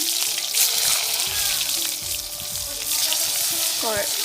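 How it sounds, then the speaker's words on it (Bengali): Eggplant pieces coated in salt and turmeric drop into hot oil in a wok, setting off a loud, close, bubbling sizzle that carries on throughout with small stirring sounds. "আমার কড়াইয়ে তেল গরম হয়ে গেছে এখন আমি বেগুনগুলো কড়াই দিয়ে দিচ্ছি"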